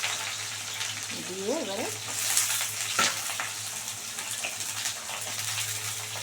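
Potatoes and onions frying in a pan give a soft, steady sizzle beneath someone speaking, with a low hum running throughout.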